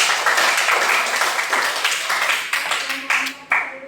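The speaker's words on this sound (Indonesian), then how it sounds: "Tepuk tangan untuk kelompok 4." Classroom applause for a student group after their presentation, a dense patter of clapping that thins toward the end, with voices mixed in.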